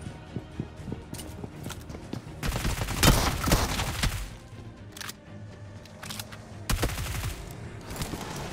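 Rapid bursts of close-range gunfire in a BGMI squad fight, loud volleys clustering around the middle and again near the end, with dense overlapping shots and no talk.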